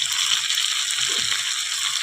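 Ginger-cumin paste and ground spices sizzling with pumpkin in a pan, a steady bright hiss of frying oil with faint low stirring scrapes beneath.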